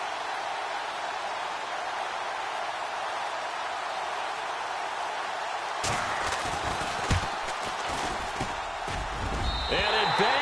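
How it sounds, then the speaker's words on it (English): A hollow metallic clang as a football strikes a goalpost upright in Madden NFL 18, followed by a few thuds and scattered game sounds over steady crowd-like background noise. "that hollow metal sound is the bane of any kicker's existence"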